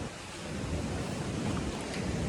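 Swollen river in Kullu-Manali flowing during continuous rain and flooding, a loud, unbroken rushing roar close by with no pauses and no voices.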